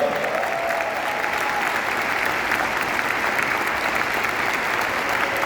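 Sustained applause from a large audience at the closing of CPAC Brasília 2021, dense and even clapping that holds steady from start to finish.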